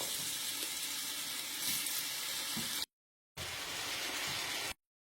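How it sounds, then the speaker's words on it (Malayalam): Chicken pieces sizzling in hot coconut oil in a pan, a bright, steady crackling hiss close by that cuts off briefly, returns, then stops. "അപ്പോൾ തിളച്ച വെളിച്ചെണ്ണയിലേക്ക് ചിക്കൻ ഇങ്ങനെ ഇട്ട് കൊടുക്കുക"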